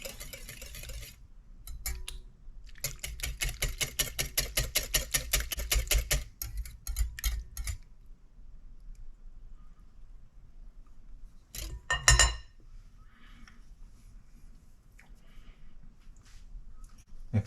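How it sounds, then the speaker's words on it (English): Spoon stirring yeast and sugar in a bowl for puff pastry bread dough, a run of quick, rhythmic clinking taps close up, then sparse knocks and one louder clatter amid quiet. "just stir this until the yeast is dissolved"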